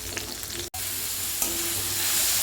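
Onion, garlic and tomato sauté in oil for a tomato thokku, a continuous close sizzle with light stirring and a brief break partway through.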